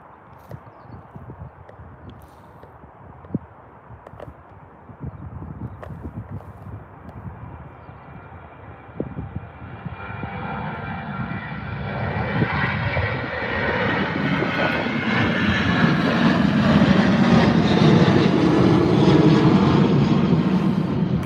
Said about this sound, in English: Here's your KLM taking off.